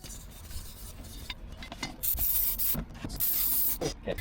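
Cloth and CRC cleaner scrubbed inside the bore of an outboard engine give a close, irregular rasping rub, with bursts of harder strokes growing louder toward the end.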